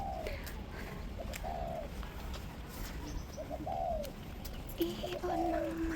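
Several soft, repeated coos from doves or pigeons sound nearby over a faint outdoor background, with occasional chirps, at Cape Collinson Battery in Hong Kong.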